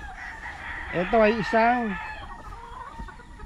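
Stag roosters give one loud, close crow with a wavering, stepped rise, plus a few clucks, over a low background murmur; someone talks briefly in Filipino alongside.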